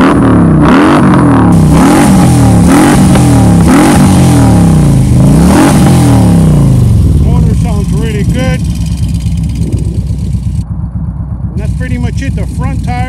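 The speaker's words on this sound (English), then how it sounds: "The motor sounds good." A 2015 Harley-Davidson Road King Police Edition with 16,000 original miles revs loudly and close, its deep V-twin rising and falling in repeated throttle blips before settling into a rumbling idle, with a voice speaking over it near the end.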